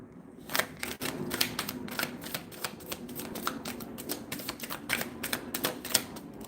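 Tarot cards are shuffled by hand at close range, a rapid run of crisp riffling clicks and flutters with short pauses between bursts.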